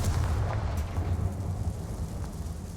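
A Confringo fire spell explodes in the video game Hogwarts Legacy, a loud sustained rumbling boom that rolls on for a few seconds with no voices.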